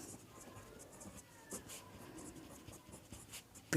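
A pen scratches across paper while a polynomial math problem is written out, soft continuous scribbling with small taps and strokes, close and quiet over faint background noise.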